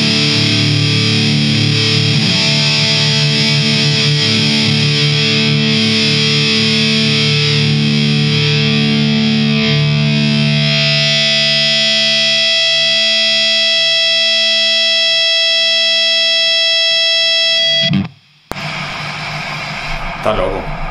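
Electric guitar played through a DOD Metal X FX70 distortion pedal with every knob at maximum rings out as loud, harsh, buzzing sustained notes for about eighteen seconds, then cuts off abruptly into brief noise.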